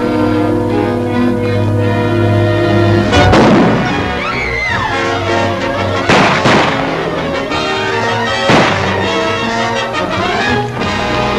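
Gunshots in a 1941 western film, Border Vigilantes, several sharp loud cracks spaced a few seconds apart over a background of orchestral music.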